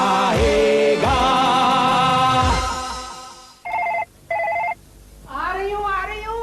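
A telephone rings in a domestic setting, with two loud, evenly spaced electronic ring bursts following a stretch of music and voices, the second ring cut short before more sound resumes.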